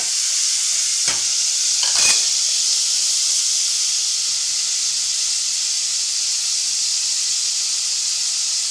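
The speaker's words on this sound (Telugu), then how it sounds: "ఇది కొత్తిమీర పచ్చిమిర్చి అయితే చక్కగా వేగిపోనియండి" Coriander and green chillies fry in oil in a pan while making rava dosa at home, a steady close hiss and sizzle throughout, with a couple of brief scraping stirs near the start.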